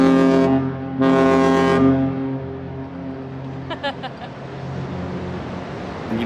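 Two loud, deep blasts from the horn of the cruise ship Symphony of the Seas sound in quick succession, followed by open outdoor ambience with a brief murmur of voices.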